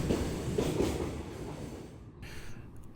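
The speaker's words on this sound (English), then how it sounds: "this is a freight train" A freight train passes on a Japanese rail line, a low rumbling roll of wheels and wagons that fades somewhat, faint and without voices.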